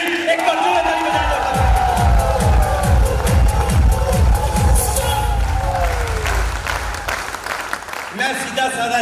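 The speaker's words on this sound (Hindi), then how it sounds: "एक बार जोरदार ताली बजाएं" Audience applauding loudly and cheering for a guru at a business talk, sustained dense clapping with whoops, while a voice carries over the crowd.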